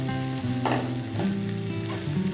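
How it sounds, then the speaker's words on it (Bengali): Boiled potatoes go into a hot tempering of asafoetida and cumin with salt, turmeric and ground cumin, giving a brief burst of sizzle partway through over a steady low kitchen background. "এখন এই সিদ্ধ করা আলুটা দিয়ে দেবো"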